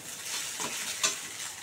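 An egg fries in oil in a pan, giving a steady crackling sizzle with a couple of sharper pops or stirring touches, close and moderately quiet, no talk.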